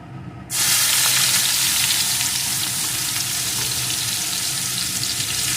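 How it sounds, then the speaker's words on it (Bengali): Spices and chopped onion hit hot oil in a pan for an egg and soybean dish, bursting into a loud, steady frying sizzle that holds on without talk. "পেঁয়াজ কুচিটা একটু ভালো করে ভেজে নেব"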